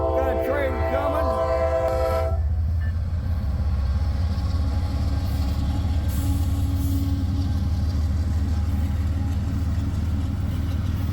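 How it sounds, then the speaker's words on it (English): A train passes on a track near Cowan Road outside Vermilion, a steady loud rumble of wheels and cars rolling by close, after a brief horn blast at the start. "Hey, group, got a train coming."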